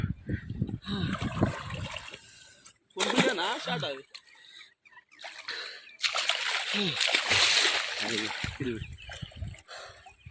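Water splashes and sloshes in a village stream in bursts, loud and close, with people talking and shouting over it in between.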